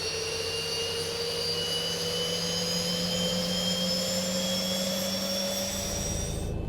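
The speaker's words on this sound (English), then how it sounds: "Starting pushback, and you may start engines." Boeing 737 jet engine spooling up in the X-Plane 11 flight simulator, a steady loud whine with rising tonal pitch over a constant low rumble, continuing without pause.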